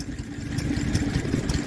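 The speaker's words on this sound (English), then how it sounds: "Beautiful little nodding donkey pump running off a little town gas engine." Small quarter-horsepower town gas engine driving a nodding donkey pump, chugging with a soft, steady low putter throughout a short stretch, fairly close and alone.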